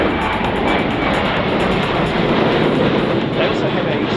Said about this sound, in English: we've got an extra pass here from the Poseidon